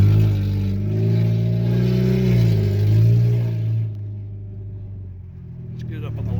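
Hyundai Tucson engine revving hard through an exhaust with a missing pipe section, a loud raw rumbling drone that swells and holds before easing off, with a voice talking over it.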